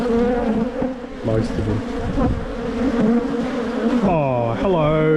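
Italian honeybees hum in a dense, steady drone at an opened hive, close and loud, with a shifting pitch as the swarm stirs, while someone speaks briefly over the buzzing.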